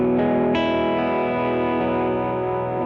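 An electric guitar through a Boss GX-100 Vox AC30-style amp model rings out a couple of picked chords that sustain and blend together, bright and slightly driven, holding steadily to the end.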